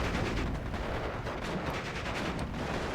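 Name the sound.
M42 guns firing in video game Steel Division 2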